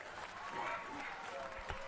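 A crowd applauds and cheers steadily for a long kick from outside 50 during an Under 18 boys Australian rules football preliminary final between Palmerston Magpies and Waratah, with a commentator talking over it.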